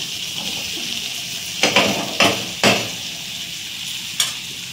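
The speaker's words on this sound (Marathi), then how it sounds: "मस्त फ्राय झाले आहेत कुरकुरीत" Food crackles and sizzles in hot oil, a constant hiss broken by a few sharp clinks of a utensil against the pan.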